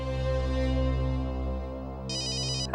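A phone ringtone rings loudly and continuously, a bright electronic melody with sustained tones and a burst of trilling near the end.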